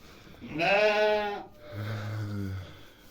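Two close bleats from a Cameroon sheep, the first higher and strained, the second lower and steadier after a short gap, with no voices over them.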